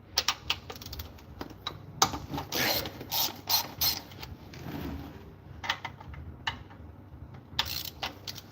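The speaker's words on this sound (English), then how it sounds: "we need to get our torque converter bolts loose, which is also a 9/16 for the starter" A 9/16 ratchet wrench loosens torque converter bolts while an engine is being pulled, with quick runs of metallic ratcheting clicks in bursts, some longer stretches of turning and brief pauses between them.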